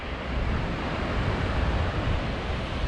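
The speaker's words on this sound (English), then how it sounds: "It's a bit windy." Broadband wind roaring across the microphone beside a reservoir on Dartmoor, steady and fairly loud with gusty buffeting, no talking.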